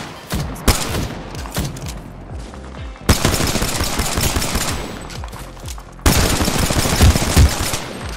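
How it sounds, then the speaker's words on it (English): An L-Star energy machine gun fires nonstop in Apex Legends, long loud bursts of rapid rhythmic shots broken by two sharp restarts, up close and dominating with no talk. "the L-Star will not stop shooting"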